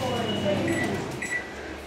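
Microwave oven running while cooking microwave popcorn, a steady mechanical hum close by with a couple of faint high electronic tones, talk heard alongside.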